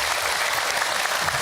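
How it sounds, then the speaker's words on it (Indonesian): Audience at an Islamic religious lecture breaks into applause, a brief dense burst of clapping filling the room at a steady level. "Tepuk tangan untuk kita semua."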